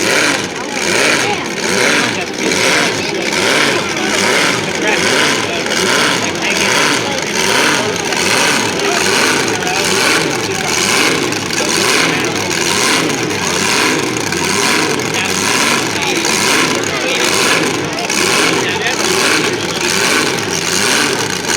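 A pulling truck at a fairground truck pull roars continuously at full throttle, loud and close. The heavy engine drone is laced with a fast rhythmic pulsing and holds steady for the whole stretch without letting up.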